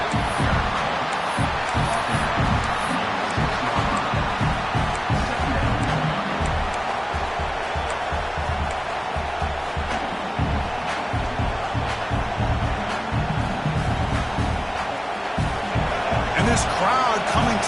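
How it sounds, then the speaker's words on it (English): Football stadium crowd roaring steadily through a fourth-down defensive stand, a dense continuous wash of cheering and noise with a commentator talking over it. "This crowd coming to life here, trying to help the defense get a stop."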